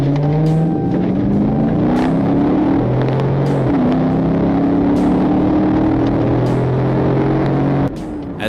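A Nissan accelerates hard away from a police stop into a high-speed chase, its engine revving loud and close through repeated rising gear pulls before cutting off abruptly near the end.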